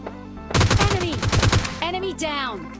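Rapid bursts of automatic gunfire from the mobile battle-royale game PUBG Mobile Lite, loud and close, a dense volley in the first half followed by faint in-game sounds.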